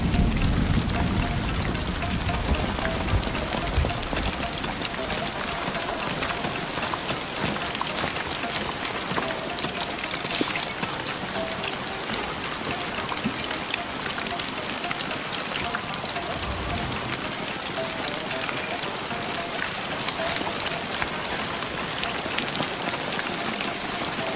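Steady rain falls in a video game scene, a dense continuous patter of drops on surfaces holding at an even level throughout with no talking.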